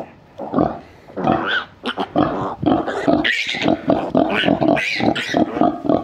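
An American Guinea Hog grunts and snorts up close while being lifted, giving repeated loud rough grunts in uneven bursts with a few higher squeaky notes.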